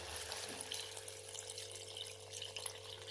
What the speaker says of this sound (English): And then I add the tamarind extract to this.